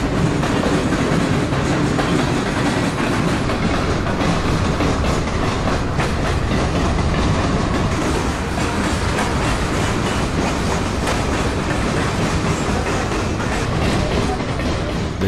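A long freight train with a mid-train distributed power locomotive rolls past a trackside viewing spot in Cordele, Georgia, a loud continuous rumble and wheel clatter filling the whole stretch.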